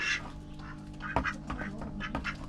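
Ducks quack repeatedly in short, close bursts on a farm, several calls overlapping with a low background hum.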